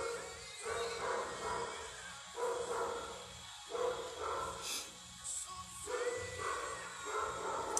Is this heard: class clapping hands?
no